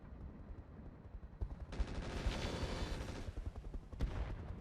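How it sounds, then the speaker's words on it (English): An ammunition explosion in the modded BattleTech game RogueTech: a sudden loud burst of crackling, rapid blasts that sustains for about a second and a half, then dies away to a lower rumble. "Ammo explosion."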